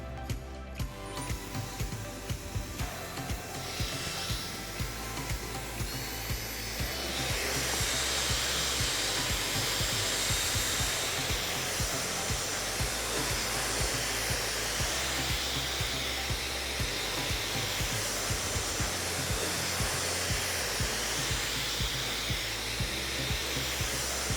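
A hair dryer runs continuously and loudly, rough drying ethnic hair while it is brushed, its steady roar rising and thickening after the first few seconds and holding without pause.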